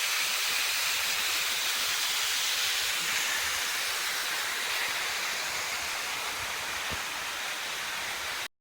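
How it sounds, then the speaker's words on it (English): Cascading waterfalls at Fairy Falls in the Waitakere Ranges near Henderson, a broad, constant roaring rush of falling water, loud and unbroken throughout. "you see all these cascades of waterfalls that you see here."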